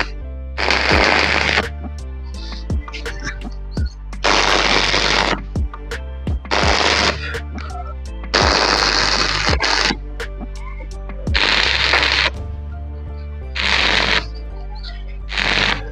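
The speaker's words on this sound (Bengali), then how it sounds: "তো আমরা 2 নাম্বার রডটি ঝালাই করব এখন।" Electric welding on steel rods of a window grill being fitted at a school: repeated bursts of crackling, sputtering arc noise lasting about a second each, separated by short pauses and sharp taps, over a constant low hum.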